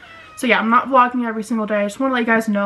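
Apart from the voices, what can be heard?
cat Oliver meowing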